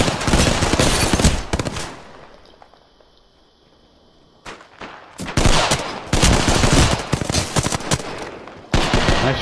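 Rapid bursts of automatic gunfire in the video game Apex Legends crackle loud and dense, a long volley, a quiet lull, then more sustained firing and a final burst.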